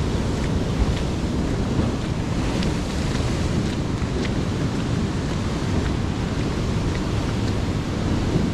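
Sea waves driven by Typhoon Kristine surge against the boulevard in Dipolog, making a loud, constant rushing roar mixed with heavy wind buffeting on the microphone and no clear breaks.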